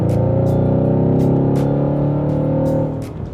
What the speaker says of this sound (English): Oh my god, the way that car took off.